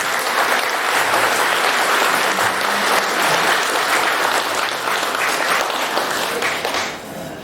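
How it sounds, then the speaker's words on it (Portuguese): An audience at a ceremony marking 80 years of Bulgarian immigration in Brazil gives sustained, even applause for about seven seconds. The dense clapping fades briefly near the end. "uma salva de palmas para ele"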